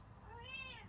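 A small cat gives a single soft, drawn-out meow, faint and close, rising then falling over a quiet room background.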